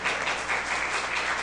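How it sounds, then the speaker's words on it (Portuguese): An audience at a technology talk gives a speaker a round of applause, a brief, close, dense burst of many hands clapping at an even level. "uma salva de palmas para o Doralvino Sena"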